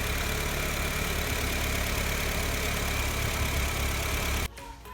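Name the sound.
Honda Mobilio car engine idling during engine flush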